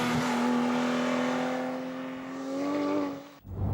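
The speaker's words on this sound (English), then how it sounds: "its 4-liter 6-cylinder engine and the great sound it makes" A sports car's 4-liter six-cylinder engine revs loudly and close by, its tone holding steady and then climbing slightly before it drops off abruptly near the end.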